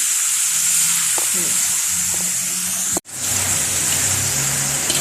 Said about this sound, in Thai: ไม่ต้องผัดนานนะคะ ดอกหอมมันก็สุกแล้วค่ะ